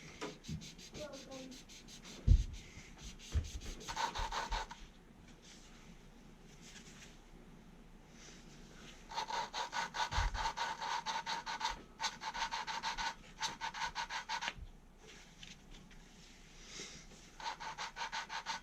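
Valve lapping on a Honda J-series engine, a suction cup tool twisted back and forth against the valve seat, giving bursts of close gritty rubbing that stop and start with quiet pauses between them.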